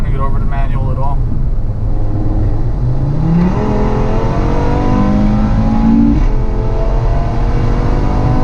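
A Stage 2 Audi RS3 running on E85 accelerates hard in sport mode, engine pitch climbing through the gears with a shift partway, heard from inside the car under a steady road roar, with some talk over it.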